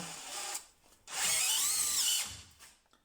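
A DeWalt DCD996N cordless drill drives a 50 mm screw into wood, a short buzz followed by a louder, rising whine of about a second as the screw sinks in, heard up close.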